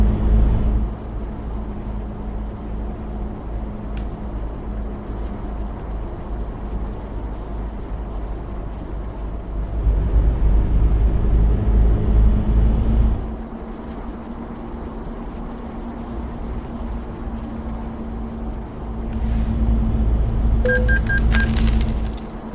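MAN TGA truck in Euro Truck Simulator 2, a steady loud diesel engine drone with low rumble that swells in two louder stretches, with a brief hiss and clicks near the end; no talking.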